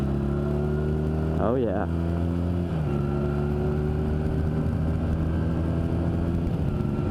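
A 2009 Honda Rebel 250 motorcycle engine drones steadily up close, with revs climbing and then dropping sharply in a quick downshift before settling back into a constant hum, while a rider briefly speaks over it.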